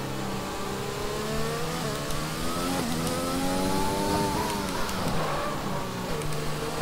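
A Formula 1 car in the F1 2020 racing game revs hard and shifts down through the gears under braking, the engine pitch rising and falling steadily and loud throughout, with no talk.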